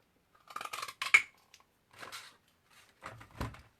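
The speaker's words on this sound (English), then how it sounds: "I'm going to cut a little banner out of" Scissors snip through paper while cutting a small banner for a stamped card, a few quiet, crisp cuts in short bursts with pauses between them.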